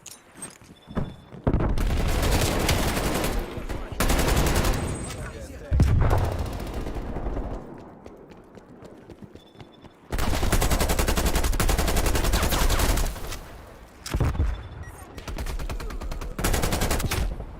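Bursts of gunfire from a Call of Duty Cold War match, including sniper rifle shots, come in dense, loud volleys of several seconds each, separated by quieter gaps, with a voice talking in between.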